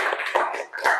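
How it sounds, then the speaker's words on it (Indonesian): Classroom applause breaking out right after a teacher's closing thanks to students, a short burst of many hands clapping at close range with slight unevenness in the rhythm. "Tepuk tangan untuk kalian."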